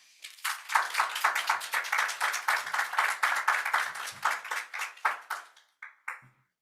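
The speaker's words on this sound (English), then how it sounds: "let's give all of our panelists a big applause, please" A small group claps for panelists at a forum youth event for about six seconds, the rhythmic hand claps starting quickly, holding steady, then thinning out and fading to a few final claps.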